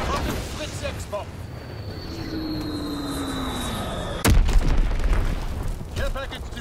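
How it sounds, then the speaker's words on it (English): A single heavy Fritz X bomb blast booms in a Call of Duty WWII match, one loud broadband impact that rumbles on for a couple of seconds amid ongoing game noise and voice. "Dropping Flitz X bomb."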